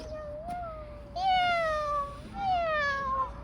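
A cat at an outdoor playground meows three times close by, a softer first call followed by two louder, drawn-out cries.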